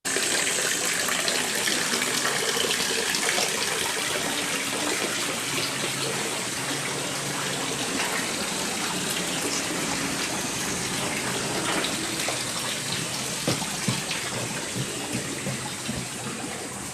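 Water flowing steadily into a pond beside a restaurant at Jindaiji temple, a constant gushing wash of moderate loudness with no talking.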